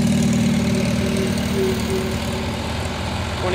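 A propane-fueled M tractor engine idles at an old engine show, a steady low chugging drone with an even rhythm, close by and alone without talk.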